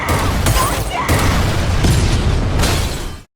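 Several loud, close explosions in quick succession, each a sharp burst trailing into a rumbling roar, before cutting off abruptly into silence.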